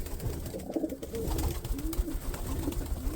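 Several pigeons in a home loft coo in repeated low, throaty rolls, one after another at close range, with faint rustling and shuffling beneath the calls.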